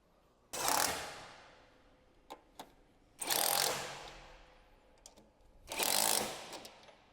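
An impact wrench with a 13mm deep socket tightens the top mount bolts of camber plates on a 2002-2007 Subaru Impreza: three loud, close bursts of rattling hammering, separated by short metallic clicks, with no talking.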